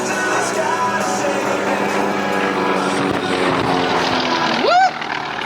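A warbird propeller plane at the Warbirds Over Monroe 2024 airshow drones loudly with a steady harmonic engine tone, ending in a rising whistle-like sweep; a voice talks over it.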